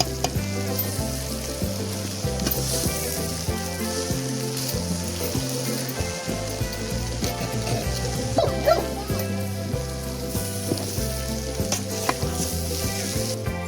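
Potatoes and fenugreek leaves sizzle loudly in a pan as they are stirred and mixed, a steady close frying hiss with scraping under a rhythmic music bed.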